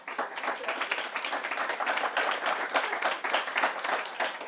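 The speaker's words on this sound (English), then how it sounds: "How about a round of applause for our panelists with some great interventions?" Conference audience applauding the panelists at the close of a hospitality and food supply event, lively, close clapping from a sizable room with uneven, pulsing bursts throughout.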